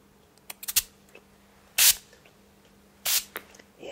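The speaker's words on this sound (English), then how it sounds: "Let the spray do its work." Two short bursts of hissing spray, about a second apart, with a few faint clicks and rustles in between.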